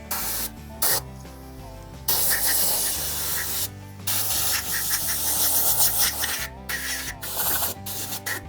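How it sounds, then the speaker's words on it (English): Air compressor nozzle blowing dirt off a knife of a Brush Bandit 1580xp chipper, loud hissing bursts starting and stopping repeatedly, close up with short pauses between blasts. "I'm also gonna take the air compressor and just blow off all the dirt"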